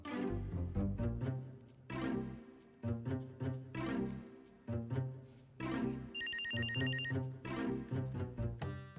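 A telephone bell rings repeatedly in a steady pattern of double rings with short pauses, clear and fairly close, with no talk over it.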